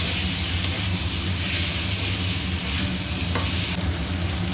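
Teasel gourd and potatoes frying in a pan while being stirred, a continuous loud sizzle and hiss of hot oil with occasional scraping and clatter from the stirring.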